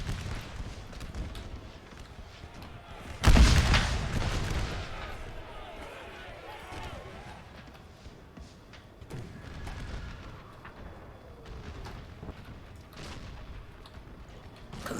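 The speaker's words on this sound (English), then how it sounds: "Let the sound of gunfire and bullets hissing." Gunfire and artillery in an American Civil War battle at Manassas in a strategy game, with one loud boom followed by scattered distant shots and rumbling under faint battle noise.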